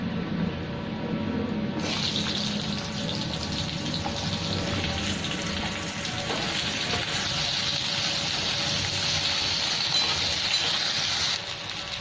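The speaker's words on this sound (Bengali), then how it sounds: "এখানে আলু আর পটল কেটে রেখেছি, এটা ভেজে নেবো একসাথে।" Potato and pointed gourd pieces fry together with black cumin in a pan, giving a steady, dense sizzle that runs unbroken for about twelve seconds with no talk.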